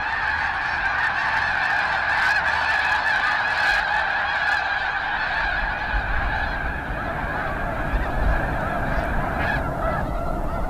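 Flock of snow geese honking together, a dense, continuous chorus of overlapping calls with the birds close and loud.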